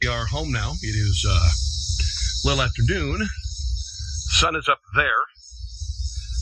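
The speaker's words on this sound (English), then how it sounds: "there's a lot of cicadas, there's a lot of locusts" Cicadas and insects drone steadily in Midwest woods around noon, a high continuous buzz running beneath someone talking close by throughout.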